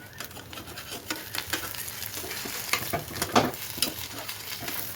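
A Maggi noodle omelette frying in a pan, with a steady sizzle broken by repeated soft scraping strokes as it is eased over and gently flipped, close and fairly loud with no talk.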